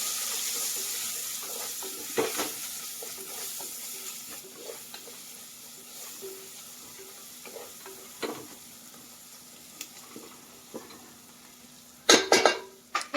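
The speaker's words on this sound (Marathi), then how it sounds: "आता हे सगळे मसाले याच्यामध्ये टाकून घेते बघा गॅस आता फुल करायचा थोडा" Whole spices for paneer biryani fry in a pan over a high gas flame, a soft, steady sizzle broken by scattered clinks and stirring ticks, with a sharper burst of clatter near the end.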